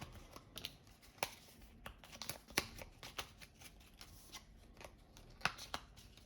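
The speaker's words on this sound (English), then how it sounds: "And then I have to shuffle the discard deck" A deck of cards is shuffled during a board game, giving faint, close, crisp clicks and flicks in uneven bursts over a quiet room.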